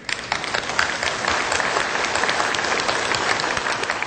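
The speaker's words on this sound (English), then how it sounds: "Please give a big applause to welcome Dr." An audience applauds to welcome a lecturer, dense steady clapping from many hands close and loud, holding without a break for about four seconds.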